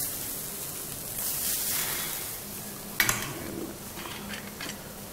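Onions tipped into a pan with curry leaves and tomato nearby, giving a steady soft sizzle with a brief clatter of the pan or spoon partway through and no talking.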